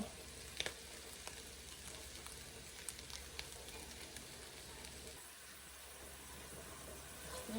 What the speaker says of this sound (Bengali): একটু দুপুরে লেগে মূলা ভাজি করে নিতেছি